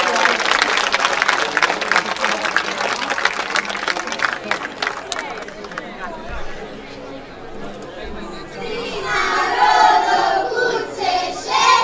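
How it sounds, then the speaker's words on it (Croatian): An audience at a folk festival applauds a children's folk group, loud crowded clapping at first that thins out while chatter and voices take over, with singing rising near the end. "molim da ih ohrabrite jednim velikim"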